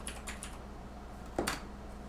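Brief typing on a computer keyboard at a desk, a few light quick key clicks followed by a sharper tap near the end, close and quiet with a low hum behind.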